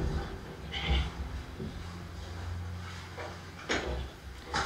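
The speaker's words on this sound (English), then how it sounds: "So now I'll let all the girls in. So we gotta, because we gotta sort them out. So these are all the ewes." Ewes, lambs and retired sheep bleat on and off while being let into a pen, several calls at mid distance over a background of shuffling and clanking gate noise.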